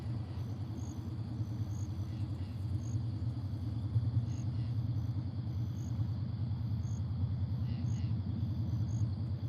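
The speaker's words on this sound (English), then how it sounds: "Oh, here's a here's a motorcycle." Motor vehicle, plausibly a motorcycle, passing by outdoors near a backwoods river during a catfish and carp fishing session, a steady low rumble building slightly and lingering, with faint insect chirps in the background and no talking.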